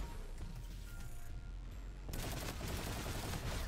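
A gun in Call of Duty: Infinite Warfare fired in a long, dense, rapid stream of shots, loud and close, the barrage growing heavier partway through, with no talking.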